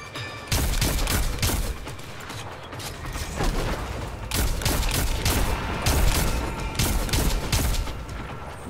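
Incoming gunfire in Destiny 2: Shadowkeep crackles as dense, sustained volleys near the player, with repeated sharp bursts and mechanical clatter over a loud, steady background of game effects.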